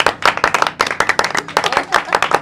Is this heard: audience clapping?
yes